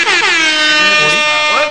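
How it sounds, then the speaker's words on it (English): A loud, blaring air horn blast with layered harmonic tones, sustained for under two seconds and bending in pitch as it fades. "Get some air horns for that"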